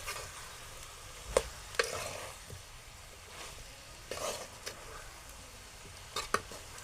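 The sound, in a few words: stirring bitter gourd pieces into onion-tomato masala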